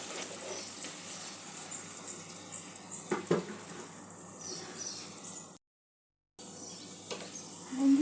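Spice masala sizzling and frying in a pan for a chicken meatball curry after a splash of water is added, a steady hiss with a few sharper crackles, broken by a brief silent gap before the sizzle resumes.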